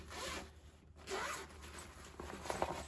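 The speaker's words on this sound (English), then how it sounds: "it will come in this nice Lincoln Electric carrying bag that has a zipper" A zipper on a Lincoln Electric welding helmet carrying bag is pulled in several quick, close strokes, a brief rasping zip, a pause, then more zipping runs.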